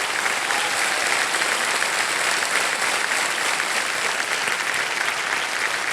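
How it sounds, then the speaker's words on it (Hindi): Studio audience of a televised quiz show applauding a contestant, a dense, steady roar of clapping sustained loudly and evenly throughout with no voices over it. "तालियां बज जाए उनके लिए।"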